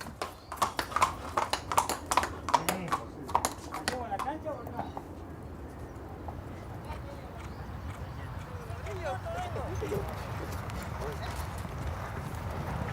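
Horse hooves clip-clop at an Argentinian racetrack, a brisk rhythmic run of close hoofbeats that thins into a rumbling wash of ground noise and distant movement.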